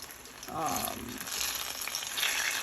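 Steady sizzling of banana lumpia frying in hot oil, a constant close crackle and hiss throughout with no talk.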